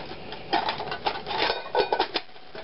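A metal camping cook set being handled and packed, close clinks and rattles of nesting pots and lids in an irregular series, with no talk.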